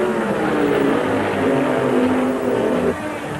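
A 1979 Indy 500 race car engine runs steadily after being restarted in the pits, with a loud, continuous droning roar close by and no pause.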